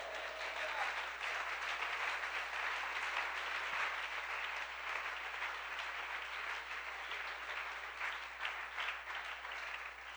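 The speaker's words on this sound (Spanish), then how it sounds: "Si lo va a aplaudir, apláudalo, por favor." Sustained congregation applause filling a Spanish-language church service, an even, steady roar of many hands clapping with a low hum beneath and no talking.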